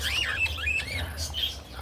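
Pet rainbow birds squawking in a breeder's aviary, a quick run of sharp chirps and squawks, near and moderately loud, over a low background rumble.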